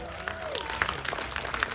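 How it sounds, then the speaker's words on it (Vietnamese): An audience at a reunion of the cast of Đất rừng phương Nam applauds in a dense, continuous patter of many hands, with crowd noise mixed in. "Và vỗ tay to hơn cho một sự gặp gỡ thầy."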